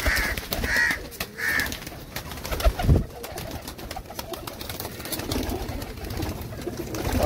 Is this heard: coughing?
no